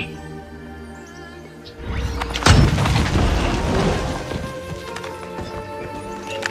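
A grenade goes off in the shooter game Valorant, a loud booming blast that swells suddenly and rumbles for a few seconds before fading under lingering game sounds.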